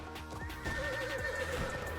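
Horses neighing and whinnying in the video game Bounty of One, a long drawn-out whinny sustained over busy game music and clip-clop hoofbeats, loud and close throughout.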